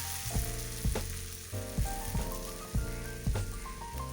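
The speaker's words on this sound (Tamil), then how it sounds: "தேங்காவை கொஞ்சம் வறுத்து சேர்க்கணும்" Grated coconut roasts in a pan for beef and tapioca biryani, a steady close sizzle with repeated scraping stirs of a spoon against the pan.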